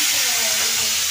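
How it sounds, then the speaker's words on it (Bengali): Carrot, beans and capsicum fry together in hot oil, making a loud, steady, close sizzling hiss with no talk over it. "আছে গাজর, বিনস আর ক্যাপসিকাম, তিনটে সবজি একসাথে ভেজে নিচ্ছি।"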